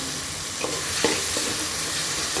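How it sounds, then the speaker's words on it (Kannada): Ginger garlic paste sizzles steadily in hot oil in a pan while being stirred, a dense continuous frying hiss broken by a few soft scraping strokes, close up with no voices. "ಇವಾಗ ಶುಂಠಿ ಬೆಳ್ಳುಳ್ಳಿ ಪೇಸ್ಟ್ ಹಾಕೊಳ್ತೀನಿ"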